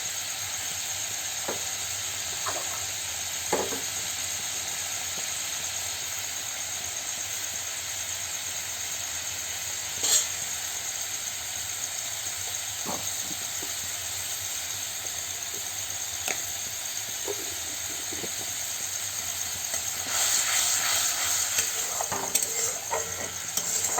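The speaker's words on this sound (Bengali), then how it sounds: "এটা কিন্তু সম্পূর্ণ নিরামিষভাবেই পনিরটা রান্না করছি।" Paneer frying with spices in a pan, a continuous close sizzle and hiss with occasional stirring clicks and scrapes, and no talking.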